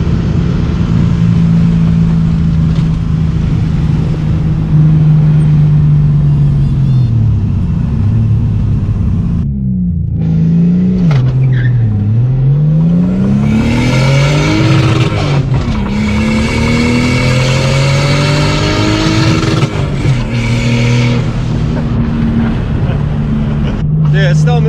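RB-engined Datsun 240Z pulling hard on 5 psi of boost, a loud close engine drone rising and falling through gear changes with turbo whine, people talking over it from inside the car.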